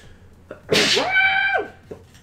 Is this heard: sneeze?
yes